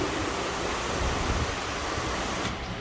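Water sprays steadily over a car, rinsing off a ceramic gloss detail spray and cleaning chemical, a continuous close hiss that runs unbroken and eases slightly at the very end.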